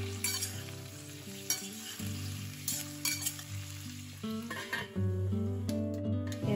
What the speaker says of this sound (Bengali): তারপর এর মধ্যে দিয়ে দিচ্ছি কুমড়ো। সবকিছু আবার হালকা করে ভেজে নিচ্ছি।